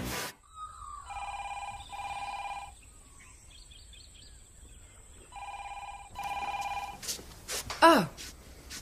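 An old-style telephone bell rings in repeated double bursts inside a rural Australian police station, loud and close, with gaps between rings, then a brief clatter and a sliding whistle-like sound near the end.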